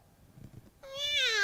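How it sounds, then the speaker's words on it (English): A single cat's meow rises after a near-silent pause, then falls and fades, short and fairly loud. ""Meow," the cat cried."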